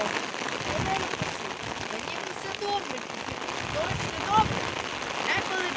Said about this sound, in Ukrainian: Дощ добрий, деколи поганий.